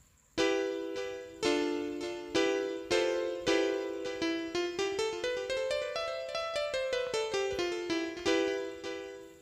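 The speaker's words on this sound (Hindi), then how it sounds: "इसके बाद आता है ब्राइट इलेक्ट्रिक पियानो।" A bright electric piano tone from the Perfect Piano app plays a run of struck notes, rising then falling in pitch, each with a sharp attack and ringing decay, clear and alone.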